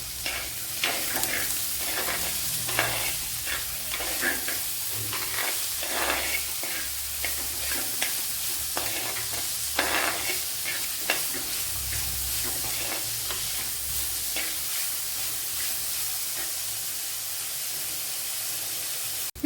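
Onions sauté in a pan for a Kerala-style squid roast, giving a constant close sizzle and hiss broken by repeated scraping stirs of a spoon against the pan, with no talking.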